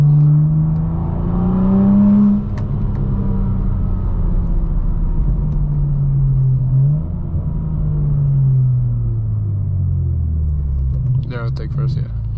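A BMW G82 M4 Competition pulls away in low gear from inside the cabin, with a deep, loud engine drone whose pitch climbs and drops across shifts. The car sometimes refuses to take first gear. A brief sharp sound comes near the end.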